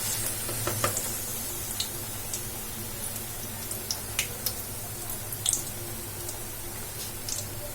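Egg chili bajji frying in hot oil: a steady soft sizzle with scattered bright pops and crackles, close and alone.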